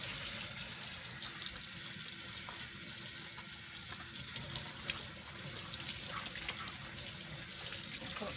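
Tap water runs steadily from a faucet into a sink while a Rit-dyed cotton shirt is rinsed beneath it, a continuous close splashing rush without pause.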